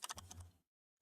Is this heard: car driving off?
no